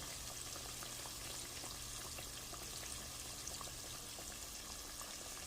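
Chicken wings for an orange pepper recipe frying steadily in a pan, a dense, even crackle and hiss that holds without pause from start to finish, close up and with no voices over it.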